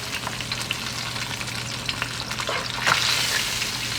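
Chicken sizzles and crackles steadily in hot oil, a continuous close-up frying hiss with small pops.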